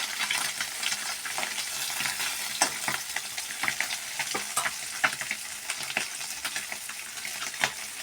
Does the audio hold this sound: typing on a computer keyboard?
no